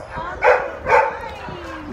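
A dog at an animal pound gives two short, sharp yips or barks about half a second apart, close by and fairly loud over low room noise.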